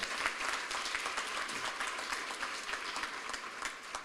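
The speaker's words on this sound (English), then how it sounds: "Can you give them a round of applause for" A crowd claps steadily at a heritage education colloquium, dense, even applause from many hands sustained throughout.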